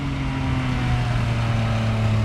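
Engine of a Triumph Speed Triple 1050 RS motorcycle with about 150 horsepower under acceleration, a loud, steady drone with rising tonal pitch, heard close and alone with constant wind rush.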